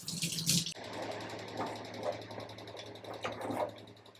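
Water poured into a pot of jaggery in a home kitchen for making poornam burelu: a short, bright splash opens, then a softer trickle and stirring continue faintly, close by.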